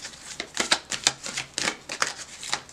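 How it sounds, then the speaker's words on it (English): Tarot cards shuffled by hand in a quiet room, a string of quick riffling, flicking bursts close to the microphone with brief pauses between them. "One more shuffle."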